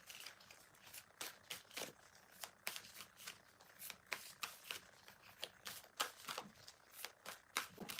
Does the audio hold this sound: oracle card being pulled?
yes